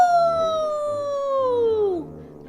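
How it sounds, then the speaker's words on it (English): A single long werewolf howl in a Minecraft game rings out clear and loud, a tonal cry that slowly slides downward in pitch before breaking off and fading. "I let off my moon howl."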